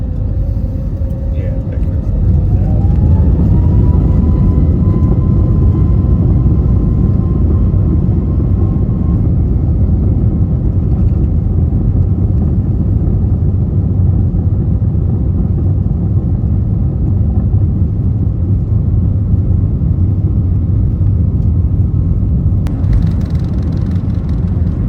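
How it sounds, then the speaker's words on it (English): An American Airlines Airbus A321neo takes off from a runway in Phoenix, heard from inside the cabin as a loud, steady engine roar and deep rumble building and holding throughout, with a rising tonal whine early on. "we're actually getting ready to take off"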